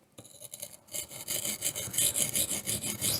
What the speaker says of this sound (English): Edge leading strokes are where you slice into the stone, and that produces much more of a burr.